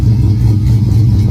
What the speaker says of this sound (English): You just can't beat the sound of a cammed LS.